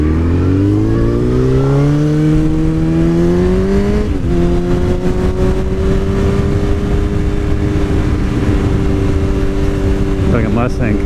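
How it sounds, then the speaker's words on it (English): A Mustang car approaching loudly with a strong engine drone that rises and shifts in pitch as it nears, a continuous vehicle roar lasting throughout with no pause. "Like a Mustang coming at me."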